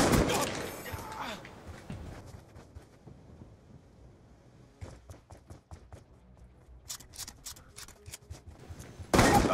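Gunfire in a video game: bursts of sharp shots at the start and a rapid cluster of cracks near the end, with quieter footsteps and shuffling between, a voice briefly heard.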